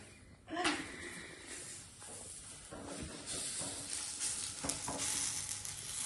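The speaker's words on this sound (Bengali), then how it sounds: "এই যে বৌদি লেগে গেছে পরাটা ভাজাতে" Methi paratha fries in a hot pan with a steady close sizzle, broken by scraping and stirring sounds and bursts of hiss as it is turned.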